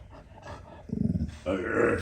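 A dog growls low and rumbling in uneven bursts, close and fairly loud, with no speech over it.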